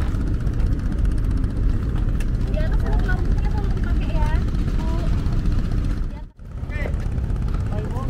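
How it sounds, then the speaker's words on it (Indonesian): Twin-engine speedboat pulling away from a dock on the Mahakam River in East Kalimantan, a loud steady engine drone filling the whole clip and dipping briefly near the end, with people talking over it. "Bertolak meninggalkan dermaga Mahakamilir speedboat berkah tiga darah."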